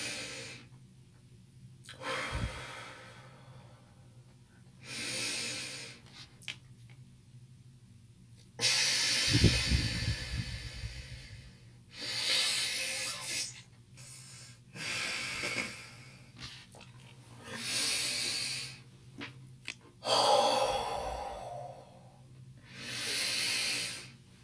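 Slow, deep breaths in a guided breathing exercise, long hissy inhales and exhales repeating in waves with quiet gaps between. They are close and breathy, with no talking.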